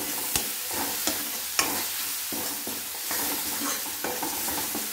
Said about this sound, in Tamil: இஞ்சி பூண்டோட பச்சை வாசனை போகிற வரைக்கும் கொஞ்சம் வதக்கணும்.